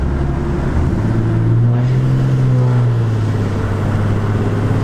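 A tuned Cummins diesel truck engine runs loud and close, its low drone rising as the turbo spools under load, with a faint hint of blowback before easing off.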